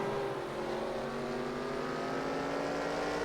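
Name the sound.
race cars on speedway track, Sportsman heat race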